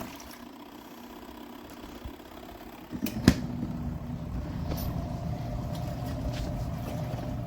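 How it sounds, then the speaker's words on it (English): A Pyle portable top-loader washing machine churns with a steady low motor hum that steps up after a couple of seconds, marked by a sharp clunk. The even rumbling continues to the end, fairly quiet and without talk. "It's a lot of agitating, a lot of movement, a lot of really spinning everything in there."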